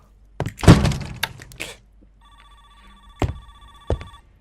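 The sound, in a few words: phone ringing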